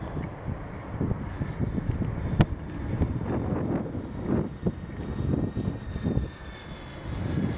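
A FlightLineRC F7F-3 Tigercat RC model airplane makes a left-to-right presentation pass on its maiden flight. The motor drone rises and falls in pitch and loudness under steady wind rumble, with no speech.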